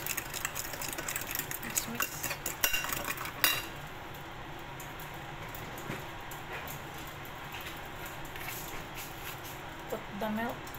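Egg and sugar mixed for sweet bread, quick clinking strokes of a utensil against a bowl for a few seconds, then quieter faint scraping and light taps, close by.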